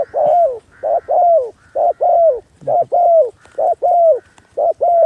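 A wild dove coos repeatedly and loudly at close range, giving about ten rounded, mellow notes in a steady rhythm with brief gaps, each note slightly rising then falling, with no speech over it.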